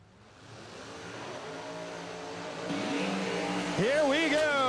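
Drag racing cars accelerating at US 131 Motorsports Park during the Shakedown event, engine roar building steadily and loud with a sharp rising rev near the end, under an announcer's excited talk.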